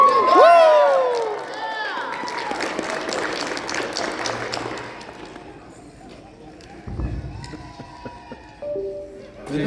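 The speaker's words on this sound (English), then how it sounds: "They're cheering on forever." An audience at a PAX East 2024 convention panel bursts into loud cheering and applause with whistles, and the noise tapers off after a few seconds while a voice carries on.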